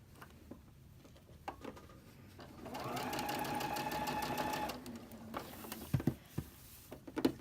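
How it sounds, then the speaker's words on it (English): A sewing machine stitches a quilt block using a 12-inch needle and 2.5 stitch length: a steady, fairly loud whirring run of about two seconds mid-clip, with quiet handling clicks and taps before and after and no talking. "So while we're sewing this here"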